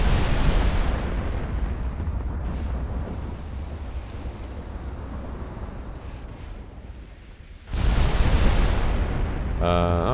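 Warship guns fire armor-piercing and high-explosive shells in a 1948 naval battle game: a heavy roaring blast decays into a long rumble, then another loud salvo cracks near the end, with a voice speaking at times.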